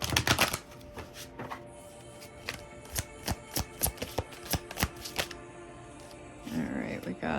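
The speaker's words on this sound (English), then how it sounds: "Let me give these a good shuffle in here." A deck of cards, shuffled by hand during a card reading, gives a run of crisp, fairly regular slaps and clicks at moderate volume, ending in a softer rustle.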